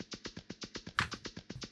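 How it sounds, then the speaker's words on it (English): Unprocessed hi-hat loop built from recorded scissors snips, a brisk steady run of short metallic ticks with one louder, brighter hit near the middle, alone and fairly quiet. "This is it's a hi-hat loop that I made years ago."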